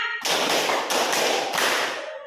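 A classroom group claps hands in a counted routine, making loud, dense bursts of clapping in a rhythmic sequence of about three pulses that then fade out.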